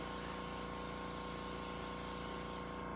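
Steady, continuous airbrush hiss as thinned leather dye is sprayed, a close, even rush of air that barely varies for the full three seconds.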